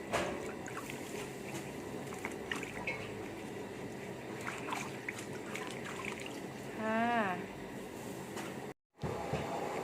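Fresh vegetables for khanom jeen nam ya are washed in water, a faint, continuous trickle and slosh with a brief whistling tone near the end.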